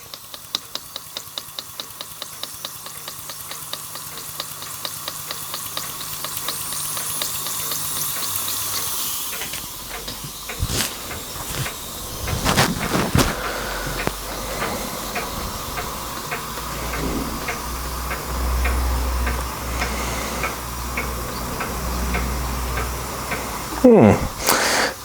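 A Weeden 672 model steam engine runs close up, giving a steady hiss with regular rapid ticking and mechanical clatter, and a brief louder knock near the end.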